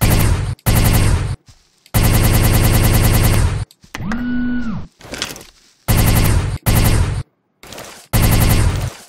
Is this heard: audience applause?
no